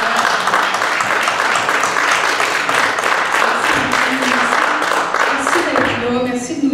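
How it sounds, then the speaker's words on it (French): Audience applause at a church testimony breakfast, a sustained dense wash of clapping from a room of people, steady and fairly loud throughout, with a voice starting to speak under it near the end. "Bonne main d'applaudissements."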